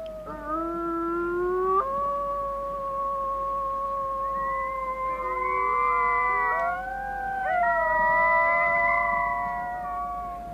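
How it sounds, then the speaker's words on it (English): An Arctic wolf pack howls together, the mother starting and pups joining in, several long sliding tonal howls layering and overlapping loudly and close, continuous without any talking. "Mom began to howl, and the pups joined in."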